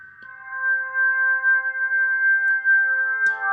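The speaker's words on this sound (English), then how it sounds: "This is a very long evolving sound with crystals below the split point." Long, evolving synthesizer pad with a crystal-like layer: bright, steady sustained tones held for several seconds, gently swelling, with faint glassy clicks near the end.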